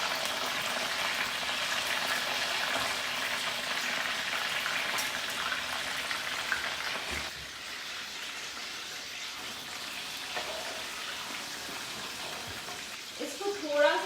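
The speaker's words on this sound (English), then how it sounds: "I'm going to put some of my red peppers." Red peppers frying in a hot pan for a Sri Lankan eggplant curry, giving a steady broadband sizzle that runs loud for several seconds, then eases slightly, with faint voices and utensil sounds toward the end.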